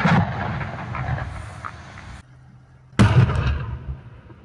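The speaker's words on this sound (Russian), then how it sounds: "Взрывали заторо-опасные участки." A deep, rumbling blast from explosives breaking up river ice jams roars and decays, then after a brief hush a second sharp explosion erupts, booming and echoing into the distance.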